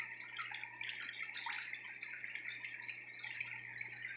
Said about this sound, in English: that's where that water comes out. Comes down, shoots out here